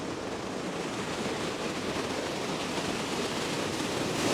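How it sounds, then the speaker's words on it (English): Niagara Falls roaring from a spot behind the falling water, a steady, dense, loud wash of broadband rushing noise that holds unchanged throughout and swells slightly at the end. "we're behind the waterfall. That's Niagara Falls."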